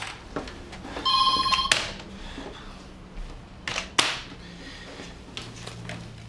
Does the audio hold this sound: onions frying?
no